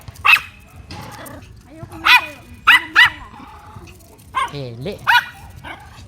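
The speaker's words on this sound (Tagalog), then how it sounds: "Nakikita kasi niya yung aso." A dog barks in several sharp, loud yelps and woofs spread unevenly, close by, while people talk nearby.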